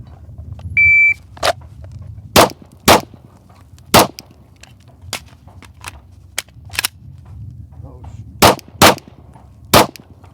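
Sharp gunshots crack out at a timed shooting challenge, about nine separate reports at irregular intervals over ten seconds, loud and close, with a brief electronic beep from the shot timer near the start and no talking.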